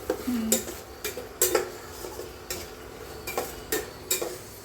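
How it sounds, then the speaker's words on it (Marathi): Turmeric gravy for chole sautéed in a pan, heard mostly as a spoon clinking and scraping against the pan in a loose rhythm over a faint sizzle, close by. "आता तिची ग्रेव्ही परतून घेत आहे"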